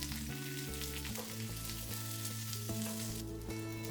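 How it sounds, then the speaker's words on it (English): Halved Brussels sprouts sauté in oil in a pan until browning, giving a close, steady sizzle that runs unbroken, with a soft tonal layer underneath and no talking. "cut them in half, a little bit of oil in the pan, and saute until brown"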